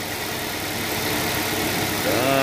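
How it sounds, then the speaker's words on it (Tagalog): The air conditioning compressor clutch engaging on a 2020 Hyundai Reina, a steady close engine idle hum that picks up a rising whine and louder tone right at the end, no talk. "Naka-on yung compressor."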